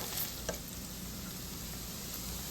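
Beef pieces browning in about half a cup of oil for a Nigerian-style peppered beef, giving a steady, even sizzle and frying hiss throughout with a faint stir or scrape near the start, no voices.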